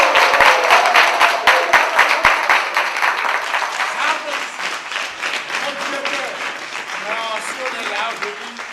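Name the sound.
audience applause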